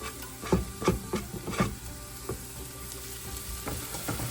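Ingredients browning in a pot for catfish head soup, a steady sizzle with a few scraping stirs near the start, close, with no talking.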